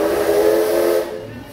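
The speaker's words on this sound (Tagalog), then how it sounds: "Ang lakas naman ng busina." A train's steam whistle at Knott's Berry Farm gives one loud, steady hissing blast that cuts off after about a second, heard alone and close.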